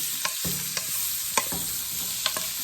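Brussels sprouts sizzle steadily in a hot pan, with a few sharp clicks of a utensil against the pan now and then; no one speaks.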